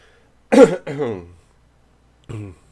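A person clears their throat twice in quick rough bursts, then once more after a short pause, close and fairly loud.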